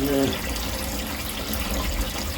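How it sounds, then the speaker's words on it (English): Running water pours steadily into a container, a continuous broadband rush that holds level for the whole stretch. "I'm just going to fill it up to the top of that little bit of whiting"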